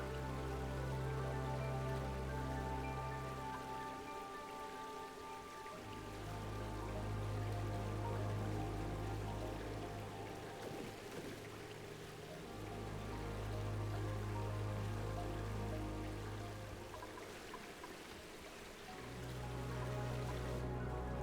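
Lava in a video game flowing like running water, a steady rain-like trickle and stream that stays constant throughout with a low rhythmic hum swelling and fading underneath.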